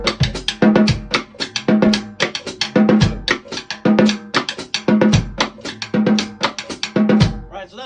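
Mambo groove on a drum set, with cascara pattern tapped on the rims alongside hi-hat, a steady syncopated repeating rhythm of sharp clicks and drum hits, played close and clear without talk.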